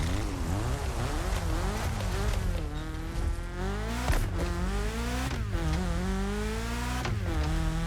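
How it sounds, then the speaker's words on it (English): A Honda Integra DC2 engine in The Crew Motorfest climbs and drops through repeated loud revs and upshifts, with tire squeal and no talk over it. "it's probably the best DC2 sound we've ever had"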